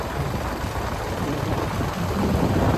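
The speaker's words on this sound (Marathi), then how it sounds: "मध्येच पावसाने हजेरी लावलेली आहे." A sudden rain shower outdoors gives a dense, steady hiss of heavy rainfall with a low rumble underneath, loud and enveloping with no voices.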